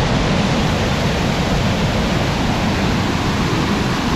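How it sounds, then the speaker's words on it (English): Fast-flowing water at Sajikot Umbrella Waterfall, where moss creates an umbrella effect, a loud, steady broadband roar heard close up and continuous throughout. "I'm not sure if you can hear me over the sound of the water, but it's fast flowing."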